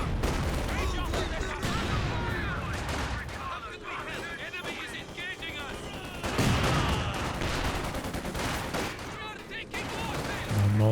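Heavy mortar barrage and gunfire in Company of Heroes 2, a World War II strategy game: repeated sharp blasts and booms with rattling bursts, irregular and loud throughout, some impacts closer and heavier than others.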